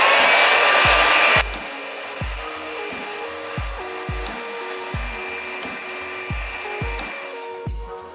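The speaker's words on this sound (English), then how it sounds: "Now I'm gonna take my blow dryer and just hold it." A hair dryer blows loudly at first, then drops to a lower hum while a steady series of knocks or taps repeats underneath.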